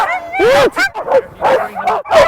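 Sled huskies bark and yip excitedly in short repeated bursts close by, with a puppy among them heading out for only her second run, the calls overlapping in a noisy hook-up scene.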